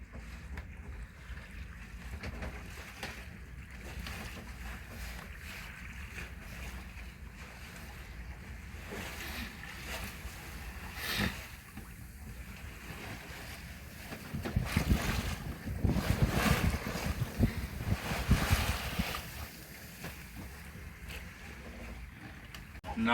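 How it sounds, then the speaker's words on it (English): A sailboat beats upwind in perfect sailing weather, with steady wind rushing over the microphone and water washing along the hull, swelling into louder splashing surges partway through. "We are beating through the wind"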